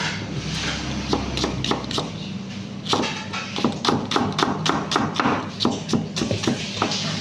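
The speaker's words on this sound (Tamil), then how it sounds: "மூணு வெங்காயத்தை ஃபைனாக சாப் பண்ணிக்கணும்" Knife chopping three onions finely on a cutting board for paneer curry: a steady run of sharp, close thuds, sparse at first and then quick and dense.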